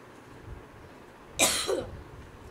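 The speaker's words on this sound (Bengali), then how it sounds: "কাশি পাচ্ছে কেন?" A single short cough bursts out close to the microphone over faint room background, with a small throaty tail right after.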